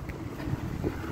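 Gusty wind blowing outdoors while a three-person tent with a vestibule is pitched, a low rumbling buffet against the microphone, fairly faint and brief with no talking.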